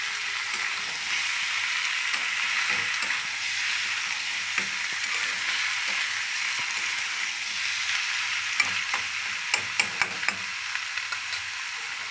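Food fries in a pan with a steady, even sizzle throughout, broken by occasional small ticks and clinks of stirring near the end; no voices.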